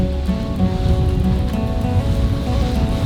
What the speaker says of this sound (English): the wind is just picking up. It's just getting stronger and stronger.